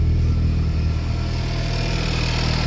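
A VW Rabbit with a swapped 1.4 turbo CZTA engine idles with a steady, low, droning exhaust note, a constant rumble with a faint hum over it and no revs or talk.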